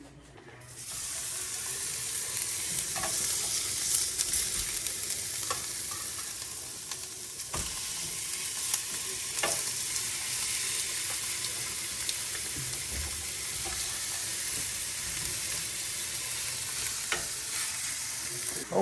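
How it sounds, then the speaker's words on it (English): Skirt steak sizzles steadily in a hot pan in a home kitchen, a loud, continuous hiss and crackle with occasional small pops and no talk over it. "skirt steak is on"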